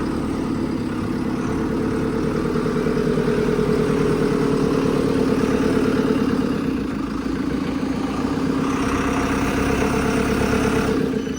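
A JCB 4CX backhoe loader's diesel engine runs at a steady idle nearby, a continuous low throbbing rumble with a slight dip midway and no voices.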